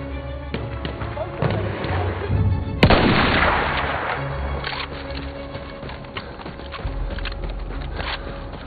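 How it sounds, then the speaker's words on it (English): An enemy artillery barrage in Battlefield 1, a string of heavy booms and blasts with one sharp, loud impact standing out, under scattered gunfire and battlefield clatter. "Wait for the enemy artillery barrage to stop."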